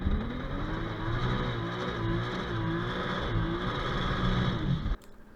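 Turbo Lexus IS300 with a six-speed and over 500 wheel horsepower at a drag launch, loud engine held at high revs for several seconds before cutting off abruptly.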